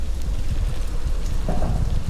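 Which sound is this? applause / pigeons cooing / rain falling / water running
rain falling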